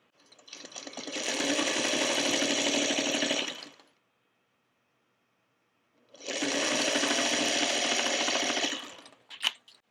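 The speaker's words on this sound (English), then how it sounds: "go to my sewing machine and take a seam with a 1/4 inch seam allowance" A sewing machine runs in two steady bursts of rapid stitching on a quarter-inch quilt seam, separated by a pause, close and moderately loud.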